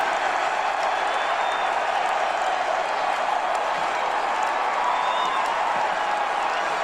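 A football stadium crowd at a North Dakota State Bison vs Kansas State Wildcats game roars after an interception, a dense, sustained wash of cheering and applause with no breaks.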